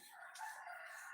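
A chicken crows briefly near a rural home, a short, faint, strained call with no talk over it.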